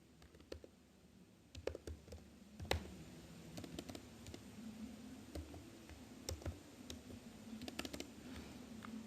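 Light typing on a computer keyboard while coding, with irregular clusters of crisp clicks and taps at modest volume and no talk.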